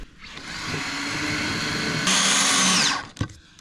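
A power driver sinks thick self-drilling screws into thin trapezoidal sheet-metal garage roofing, a steady loud whine that rises to a higher, harsher pitch for about a second before stopping with a short clunk.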